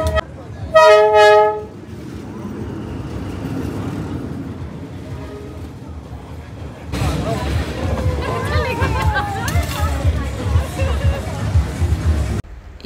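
A train on Hanoi's Train Street in Vietnam sounds a loud, brief horn blast, then after a lull its heavy rumble and clatter roll through the narrow street, close and sustained amid background noise.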